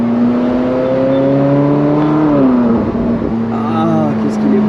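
A Ferrari 458 Spider convertible engine hums steadily and close, then its pitch climbs and drops as the throttle is reapplied, with someone talking over it.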